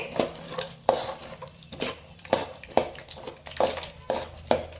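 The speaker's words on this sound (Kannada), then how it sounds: "ಅಗ್ದಿ ಚಟಪಟ ಅಂದ ಇವು ಶೇಂಗಾ ಬಾಯಿ ಬಿಡ್ಬೇಕ್ರಿ" Peanuts fry in hot oil with a crackling sizzle, while a spoon stirs and scrapes through them in repeated sharp strokes against the pan, close and moderately loud.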